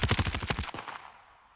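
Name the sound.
gunshot in Modern Warfare video game, sidechain-compressed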